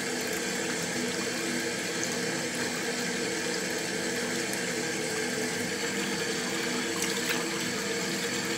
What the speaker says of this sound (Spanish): lo que voy a hacer es mojarme la cara, o sea, mojarme las pestañas.